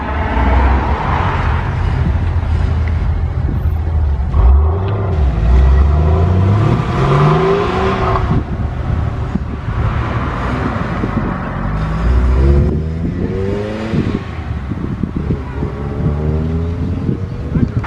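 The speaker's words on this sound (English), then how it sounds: "Porsche 911." A Porsche 911 revving as it pulls away from a Cars and Caffeine meet at Combermere, a loud engine note climbing and falling through several rising sweeps, close by with heavy wind buffeting.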